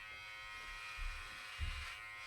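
An electric clipper buzzes steadily at close range, its pitch dipping slightly twice as it presses against hair.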